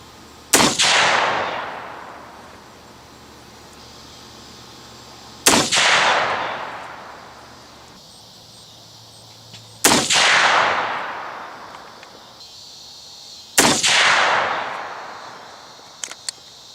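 Four loud, sharp shots from a 7mm-08 handgun firing 162 gr AMAX loads, spaced about four to five seconds apart, each with a long decaying echo rolling away across open ground.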